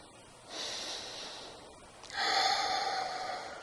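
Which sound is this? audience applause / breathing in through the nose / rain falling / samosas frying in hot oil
breathing in through the nose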